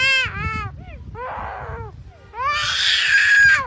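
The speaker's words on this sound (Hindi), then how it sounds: "इस पक्षी की आवाज ऐसी है जैसे कोई छोटा बच्चा जोर जोर से रो रहा" A black-collared starling gives loud, wailing cries like a child sobbing, several rising and falling calls in quick succession followed by a harsher, noisier burst, close and clear.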